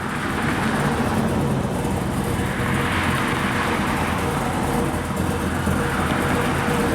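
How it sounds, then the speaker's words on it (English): Road traffic passes a car dealership lot on a state road in Goodrich, Michigan, a steady broadband roar of vehicles with slow swells as cars go by at moderate distance, no voices. "Got a fair amount of traffic today."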